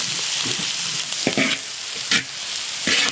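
Onions fry in hot peanut oil with a loud, continuous broadband sizzle, broken by several scraping stirs of a utensil, close up and without speech.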